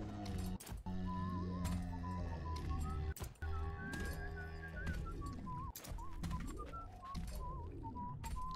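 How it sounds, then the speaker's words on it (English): A whistling figure inside the Bioshock video game, a wavering melodic whistle rising and falling over a droning mechanical hum and low tones, repeating across several phrases at a distance. "I still hear a person whistling"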